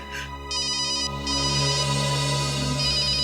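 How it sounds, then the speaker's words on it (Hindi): Phone ringtone ringing in a CID crime drama scene, a loud, continuous electronic melody with a repeating pulsed tone pattern over a sustained background score. "किसका फोन है?"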